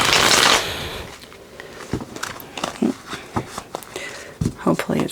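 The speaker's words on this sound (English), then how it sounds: "I'm going to shuffle them." Tarot cards being shuffled by hand: a burst of riffling followed by a series of soft, irregular slaps and taps as the cards are cut and stacked, close and fairly quiet.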